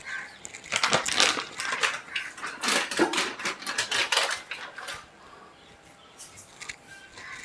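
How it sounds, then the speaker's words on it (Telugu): Flour being mixed into dough for bobbatlu in a bowl, with repeated crunchy, scraping kneading sounds in irregular bursts that fade toward the end, close and moderately loud. "కొంచెం పిండి కలుపుతున్నా కలిపి చూద్దాం ఎలా వస్తాయో"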